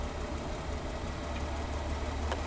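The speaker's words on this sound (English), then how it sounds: "Vehicle is running at this moment to show you all the features in fact working." The engine of a 1941 DeSoto Deluxe sedan runs at a quiet, steady idle with a low, even rumble and no voices.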